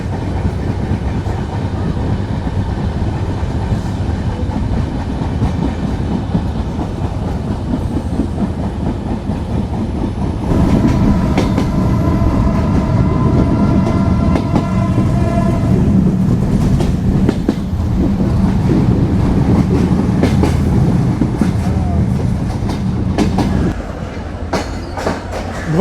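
Sagardari Express train running on smooth, well-kept rail track near Phultala, a steady loud rumble with rhythmic wheel clatter, recorded from onboard, shifting in tone partway through as the carriage noise changes.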